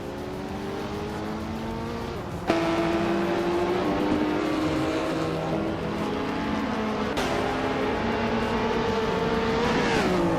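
Race cars including a 2019 Radical SR3 roar past loudly, engines revving and shifting with sharp onsets as cars pass near, continuous throughout.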